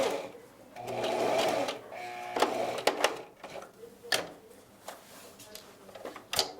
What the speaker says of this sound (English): Sew down the length of the pipe cleaner.